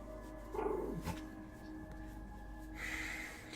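Dog indoors in a room with a gamer, giving a short bark or yip and a few faint vocal sounds against a steady low background hum.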